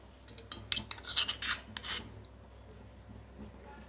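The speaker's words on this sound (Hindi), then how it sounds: "इसमें हम ऊपर से भी गार्लिक पेस्ट लगाएंगे" Garlic paste scraped and spread across bread slices, a run of close dry rasping strokes that cluster loudly early and then fade to a quiet bed.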